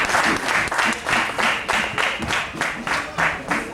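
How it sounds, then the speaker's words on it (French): Audience applause at the opening ceremony of an agency in Bohicon, a crowd clapping in loose rhythmic surges that rise and dip in waves over a few seconds. "Je vous prie de l'applaudir."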